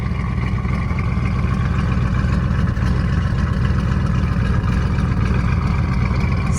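A 1971 Dodge Super Bee engine runs steadily at idle, a loud, continuous low rumble with no revving or talking.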